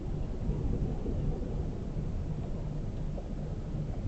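Steady roar of a thunderstorm with wind and heavy rain heard from inside a van at night, a dense unbroken rumble with no distinct thunderclaps standing out.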